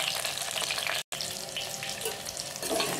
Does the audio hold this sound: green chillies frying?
yes